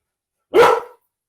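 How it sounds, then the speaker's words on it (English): A single sharp dog bark, close and loud, standing alone in otherwise quiet surroundings. "Dog."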